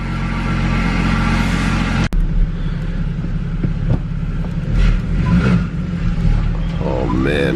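A BMW N54 car engine with a newly installed downpipe idles and rumbles nearby after starting, with a sharp click near the start and brief light revving toward the end.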